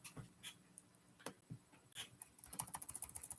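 Rapid typing on a computer keyboard, heard up close with no one talking: scattered single key clicks at first, then a denser, quicker run of taps near the end.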